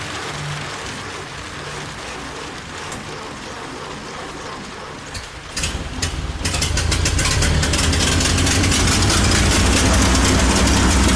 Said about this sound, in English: The engine has finally started.